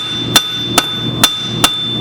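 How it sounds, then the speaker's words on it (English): A forged steel weeder, a gardening tool, is hammered by hand on an anvil after power-hammer work: four sharp, loud metallic strikes at a steady slow rhythm, each ringing briefly over a low workshop hum. "I'm going to finish that on the anvil."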